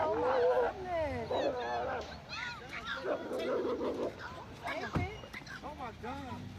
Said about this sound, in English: They tearing them dogs up.